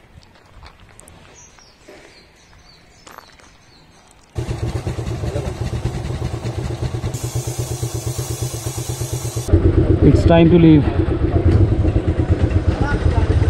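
Several motorcycle engines run steadily at idle in a beach-town parking area, a loud continuous throbbing rumble that grows louder partway through, with people talking over it.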